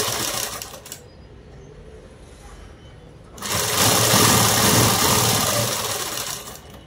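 A domestic sewing machine stitches a garment's seam, running in short bursts: a brief whir, a pause of quiet, then a longer steady buzzing run that tapers off, close and fairly loud with no talk.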